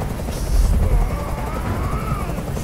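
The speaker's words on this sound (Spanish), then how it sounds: "¡Ya no resisto más ese ruido! ¡Haz que ese helicóptero se vaya!" A steady, throbbing helicopter drone hovers close by, loud and constant throughout with a low rumbling pulse and no talk over it.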